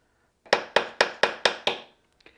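A planishing hammer strikes a sterling silver bail six times in a steady, even rhythm, each blow a sharp, close metallic ring that decays quickly, followed by a few faint taps.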